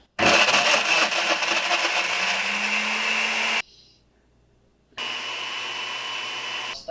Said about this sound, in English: if you throw some cheese sticks in a blender